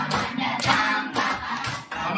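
A group claps hands together in rhythm at a morning gathering, with loud bursts of clapping in a regular counted pattern and no talk over them.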